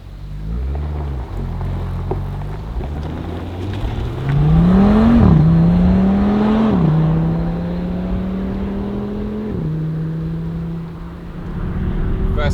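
A new Audi RS 3 Performance pulls away on the road, its engine rising in pitch through several gear changes, loud and close, settling into a steady cruise before building again.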